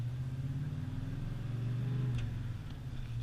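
Car engine with a tight manual transmission, upshifting through medium shifts without grinding; a steady close mid-pitched engine drone holds, dips briefly as a gear changes, then picks up again.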